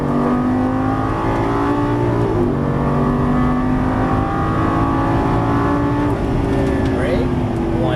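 A Lamborghini Gallardo LP550 on a racing track gives a loud, sustained engine drone from inside the car, its pitch rising as it accelerates, while people talk over it.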